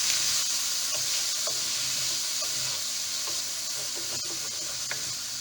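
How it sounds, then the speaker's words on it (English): Pork, zucchini and tomato sauce sizzling in a pan while being stirred, a steady hiss broken by repeated scraping strokes and small clicks, close up and without talk. "now we give a nice turn on this"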